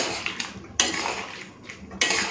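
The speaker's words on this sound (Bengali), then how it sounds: "মাছের মাথা দিয়ে এখন ভালো করে একটুখানি মিশিয়ে নেব" Fish head being stirred into a tangy rohu curry with pumpkin in a pot, heard as repeated metal spoon scrapes and clinks against the pot at uneven intervals over a faint background, with no talking.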